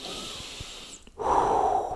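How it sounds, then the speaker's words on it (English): A big, deliberate breath drawn in through the nose, then a short pause and a louder, fuller exhale pushed out through the mouth. It is close and alone, with no talking. "in through the nose, out through the mouth"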